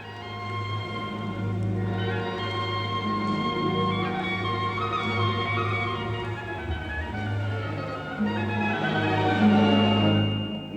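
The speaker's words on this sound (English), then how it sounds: "a wavy wisp of a tune in an old church mode that goes like this" Orchestra playing a wavy, drifting tune in an old church mode from a Debussy seascape, sustained strings and winds swelling gently over a low held bass for several seconds.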